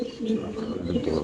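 Racing pigeons in a cage give soft, continuous low cooing for a moment, overlapped by steady background noise and murmuring voices nearby.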